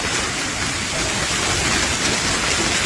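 A heavy rainstorm with hail in Talwandi Bhai, Ferozepur district, Punjab, makes a loud, steady, dense hiss and drumming with no pauses, close by and uninterrupted.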